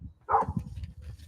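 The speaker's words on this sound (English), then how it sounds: "This is my dog right here. That's who you guys see barking." A dog barks outdoors, one short near bark followed by faint low whimpering or grumbling sounds, fairly quiet overall.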